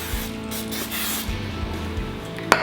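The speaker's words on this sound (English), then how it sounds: "then spray the top of the dough" Short hissing bursts of aerosol cooking oil sprayed onto pizza dough in a bowl, close by, over a low background hum, ending with a sharp click.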